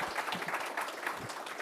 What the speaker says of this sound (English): So a round of applause to our amazing panelists.